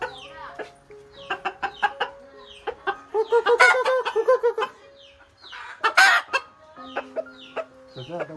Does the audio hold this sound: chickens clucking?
yes